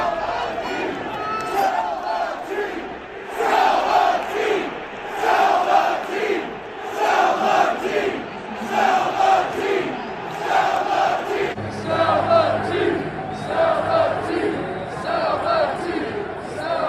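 More than 28,000 Oakland A's fans in a baseball stadium chant "Sell the team" in a loud, rhythmic, repeating crowd chant that rises and falls in regular waves.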